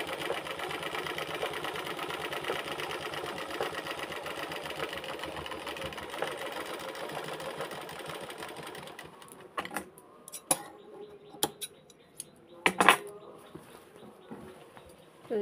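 Sewing machine stitching the fall onto a saree, a steady close motor whirr for several seconds, then stopping to leave scattered clicks and handling knocks of the cloth.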